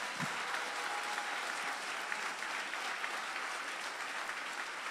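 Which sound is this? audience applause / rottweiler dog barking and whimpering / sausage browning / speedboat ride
audience applause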